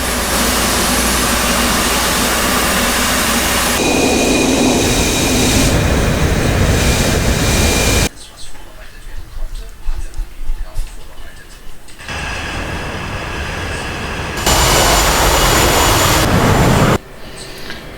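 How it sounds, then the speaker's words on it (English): A Navy fighter jet engine running loud and close before shutdown, a steady roaring whine that shifts in level several times, dropping to a lower rumble midway and then rising again. "So I'm shutting down the engine."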